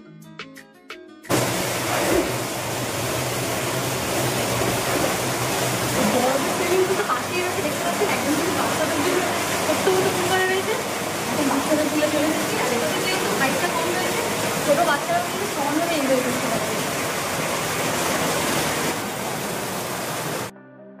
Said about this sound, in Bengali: এখন পুরো ওয়াটারফলসের সামনে দাঁড়িয়ে রয়েছি।